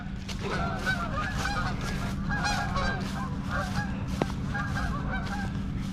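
A flock of Canada geese honks steadily along a valley hiking trail, the repeated calls overlapping at moderate distance over a constant low background rumble.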